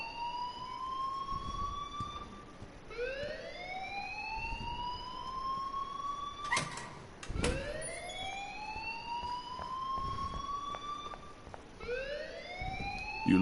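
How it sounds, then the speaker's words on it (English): A siren-like alarm in a video game wails in repeated rising sweeps, loud and steady, with a couple of sharp bangs between cycles. "please turn off that alarm since that's your job"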